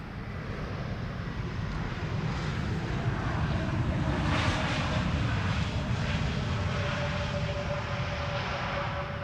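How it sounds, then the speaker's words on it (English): JetBlue Airbus A321neo airliner touching down at Schiphol after a flight from Boston, a sustained broad jet roar with a faint whine, steady and fairly close, no talk. "This is JetBlue A321neo, flight 631, arriving from Boston, Massachusetts, touching down after 6 hours and 18 minutes of flight"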